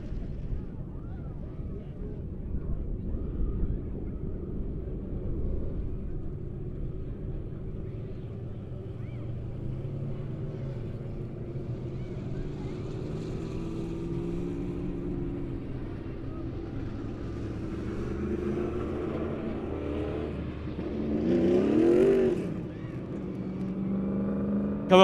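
Rolling Thunder race cars coming onto a track for a season championship feature race, a continuous low engine rumble from several cars, swelling briefly near the end, heard at a distance.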